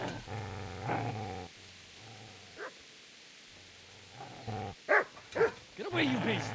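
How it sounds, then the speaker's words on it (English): Dog growling and barking in the video game Kingdom Come: Deliverance; a low growl runs under a man's speech, then a few sharp barks and yips come close together near the end. "Get away, you mutt!"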